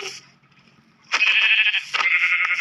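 Sheep bleating in a Thai gaming session, two loud, drawn-out bleats one after another, heard alone without talk.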